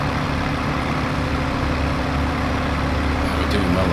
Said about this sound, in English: And this tractor's pulling this load up this hill